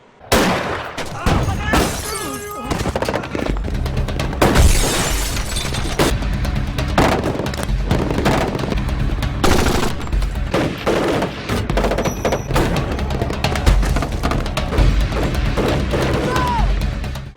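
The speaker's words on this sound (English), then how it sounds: "all hell breaks loose and the obligatory shootout ensues" Gunfire in a 2006 Miami Vice film shootout: dense, rapid bursts of shots and sharp impacts with crashes and shattering, loud and continuous, with occasional voices mixed in.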